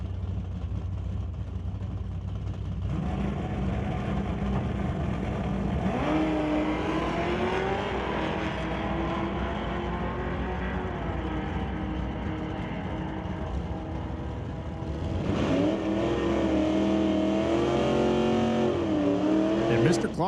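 Drag race cars, including a Mustang, launch down the track with engines revving and rising in pitch, loud and sustained, then a second surge near the end; a commentator talks over the noise.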